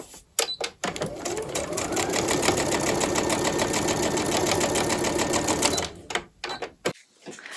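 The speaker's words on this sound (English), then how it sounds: "And then I'm just going to sew that down." A sewing machine stitches a 1/4-inch seam on a quilt strip, running in one steady, fast, even-paced burst for about five seconds, preceded and followed by brief clicks and handling noises.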